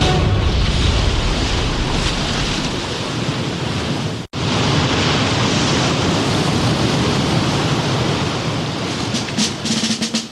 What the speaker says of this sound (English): The Atlantic swell around the bottom of the oscillating water column should be enough to send a powerful wind whistling up the tube.